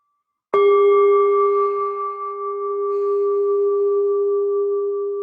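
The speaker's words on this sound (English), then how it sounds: "I'm going to close with one sound of the bell." A single bell is struck once to close a workshop, ringing with a sharp metallic attack and then a long, clear, steady sustained tone that keeps sounding to the end.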